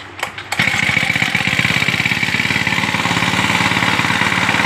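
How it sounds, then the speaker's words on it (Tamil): A small petrol brush cutter engine sputters briefly, then catches and settles into a loud, steady buzzing idle up close, running alone without talk. "இன்ஜின் ஃப்ரீயாக ஸ்டார்ட் ஆகிக்கும்."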